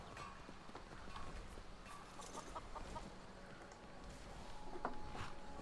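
Horse hooves clip-clop steadily in the video game Skyrim, a busy run of close, repeated thuds set against game ambience.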